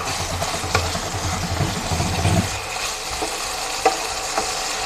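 Chicken liver frying in a pan for bihon sotanghon guisado, a steady broadband sizzle with stirring scrapes, busier in the first half and then settling into a constant hiss.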